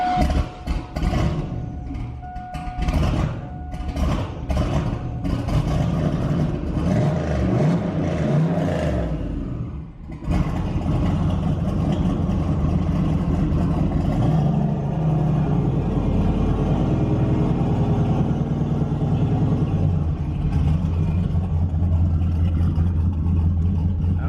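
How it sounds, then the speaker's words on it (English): A truck drives down a driveway, its engine a loud, steady close-up rumble that revs and strains through the first half, briefly dips, then settles into a continuous heavy drone; no one speaks. "we'll know as soon as I start driving down the driveway"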